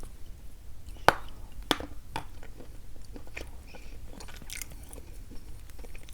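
A piece of very dry pressed chalk is bitten and chewed up close, with two sharp crisp cracks early on followed by softer, irregular crunching and grinding.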